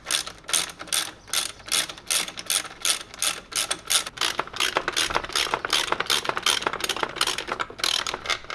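A ratchet clicks in fast rhythmic bursts while loosening the oil pressure sensor on a Subaru engine, close and loud, continuous cranking strokes with no voices.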